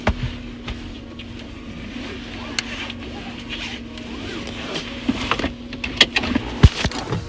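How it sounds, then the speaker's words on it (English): A car driving slowly through a Walmart parking lot, with a steady low engine and road hum punctuated by occasional clicks and bumps from inside the cabin. "I'm just driving around"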